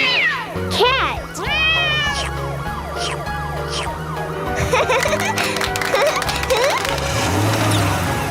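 A cartoon cat meows as an animation sound effect, a few rising-falling meows over busy background music with siren-like tones.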